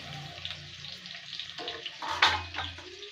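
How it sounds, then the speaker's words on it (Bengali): Garlic hits hot oil in a pan and fries with a soft, steady sizzle and crackle that swells briefly partway through, close up with no talking. "বন্ধুরা তেলটা গরম হয়ে আছে, রসুনটা দিয়ে দেবো প্রথমে"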